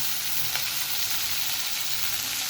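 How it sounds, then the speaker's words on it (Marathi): Tomatoes and a little coriander go into oil with sautéed onions, and the pan gives off a loud, even sizzle close by with no speech. "या ठिकाणी कांदा परतून झालेला आहे. मी आता टोमॅटो घालते."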